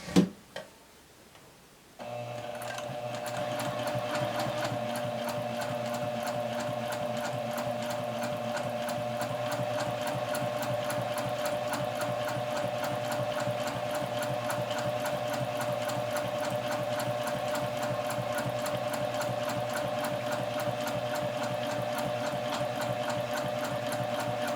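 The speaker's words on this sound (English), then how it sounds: "And stitch straight on through." A sewing machine runs steadily while stitching a topstitched hem, its fast even needle ticking and motor hum continuing almost uninterrupted after a couple of brief clicks at the start, close and clear with no talking.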